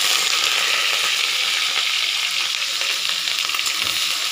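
Grated onion sizzles in hot oil with whole garam masala, a loud, steady, close frying hiss with faint stirring scrapes and no talk.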